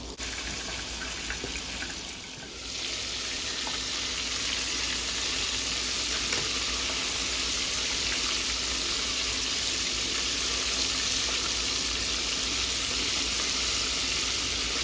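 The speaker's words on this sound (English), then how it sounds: "I'm frying the chicken on medium because the pot is very thin" Chicken wings for black pepper wings fry in a thin covered pot over medium heat, giving a steady, dense sizzle and crackle that runs without a break from start to finish.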